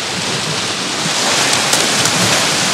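Heavy rain pours steadily in a dense, loud hiss onto an umbrella during land-based fishing, with a few louder patters as drops strike a nearby surface.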